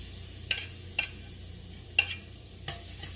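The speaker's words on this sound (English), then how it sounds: "I put at least 4 cloves of garlic, so I minced them, and so I'm gonna saute them." Minced garlic sautéing in olive oil in a pan for a Filipino dinuguan blood stew, a soft, quiet sizzle punctuated by several sharp utensil scrapes and stirring knocks.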